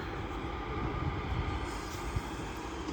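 A train at Stoke-on-Trent station on the West Coast Main Line, heard as a steady, loud low rumble of rolling stock for several seconds with no voices.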